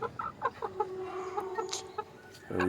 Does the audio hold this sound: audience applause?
no